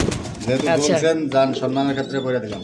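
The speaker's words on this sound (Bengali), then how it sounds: "এই সমস্ত কবুতর রেসার কবুতর" Racing pigeons coo nearby in soft, throaty rolling calls, mixed with people talking in the same space.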